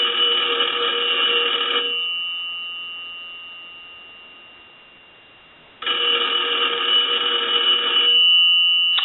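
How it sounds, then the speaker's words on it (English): An AE 3 slot payphone bell ringing, two loud, close metallic ring bursts of about two seconds each, separated by a long quiet gap with a faint lingering tone. "So we'll ring the telephone. I'm going to let that go a few times."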